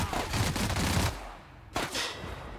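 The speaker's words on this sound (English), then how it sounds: "We'll just fire at him." Video game gunfire aimed at a character named Clive Lumberg: a loud, dense burst of rapid shots for about a second, a brief pause, then a second volley, close and without talk.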